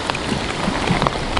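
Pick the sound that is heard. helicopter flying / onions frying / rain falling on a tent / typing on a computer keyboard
rain falling on a tent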